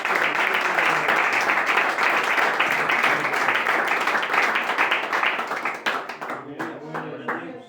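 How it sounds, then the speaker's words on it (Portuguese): A congregation applauds during a Portuguese-language church service, a dense sustained burst of clapping that fades after about six seconds into a few scattered claps and a voice speaking. "E as palmas exaltam novamente"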